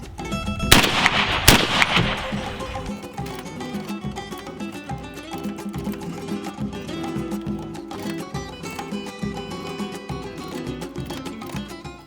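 A shotgun fires a reloaded Remington American hull, a sharp blast followed by a second report less than a second later. Loud broadband echoes and rumble trail off behind the shots.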